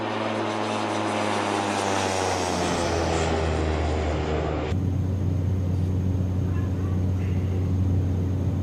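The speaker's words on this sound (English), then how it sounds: "Nice, beautiful departure out of San Juan." Blacksquare Caravan turboprop departing San Juan in Microsoft Flight Simulator 2024, a steady loud propeller drone with a rising whine that shifts abruptly to a lower, quieter cabin hum partway through.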